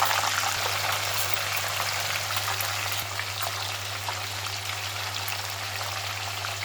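Fish fried in hot oil gives a dense, steady sizzle that stays loud and even throughout, with a low hum running underneath.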